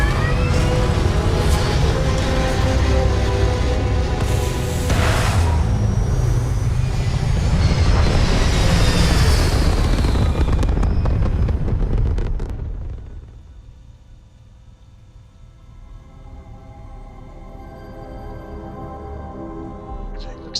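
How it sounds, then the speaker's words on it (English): Spaceship thrusters fire in the Starfield video game, a loud, dense roar that holds for about twelve seconds, then drops away to a quiet, low hum. "All thrusters firing."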